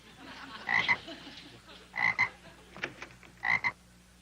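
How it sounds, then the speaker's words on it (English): A frog croaks in short bursts, three or four calls spaced a second or so apart, fairly close against a quiet background. "I found these two frogs swimming in the cement pond"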